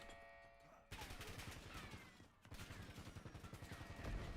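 Automated turrets firing in Black Ops 7, rapid rhythmic bursts of gunfire that cut in abruptly, pause briefly, then resume in a steady rattling stream, loud and close, with a faint hum before the shooting starts.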